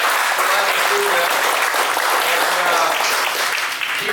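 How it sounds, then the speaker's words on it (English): Sustained audience applause fills the whole stretch, a dense steady clapping from an indoor crowd at a climate action event with a Colorado senator, fading slightly at the end. "So let's have a round of applause for Sue, Taylor, Heidi, Brandon, and Diane,"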